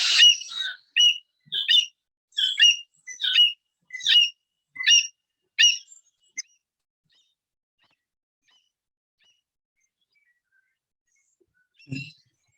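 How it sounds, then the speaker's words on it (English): An Indian grey hornbill calls in a quick series of about eight shrill, squawking notes over six seconds, clear and fairly close, followed by silence and one fainter note near the end. "the call that you heard just now is the call of an Indian grey hornbill"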